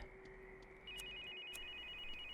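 A cell phone rings in The Sims 2 for PSP with steady electronic tones, then a higher pulsing ring that repeats over constant background game audio.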